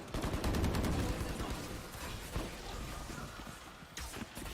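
Rapid gunfire spray in a Valorant pro match at VCT LOCK//IN São Paulo, dense bursts of shots that are loudest early and then thin out, with game effects continuing behind them.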